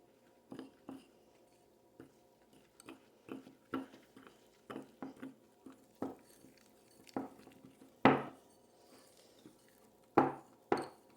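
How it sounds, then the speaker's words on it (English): Thick chocolate cake batter being mixed by hand in a bowl, quiet scattered scrapes and soft knocks of a utensil against the bowl in a near, irregular rhythm. "Mixing. It's a little thick"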